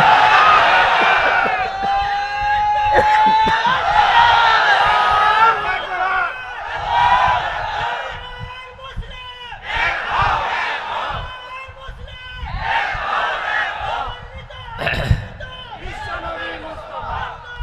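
A large crowd at an Islamic religious sermon gathering roars a loud takbir chant, repeated surging shouts in waves over about eighteen seconds, dense and close with a babble of voices between calls.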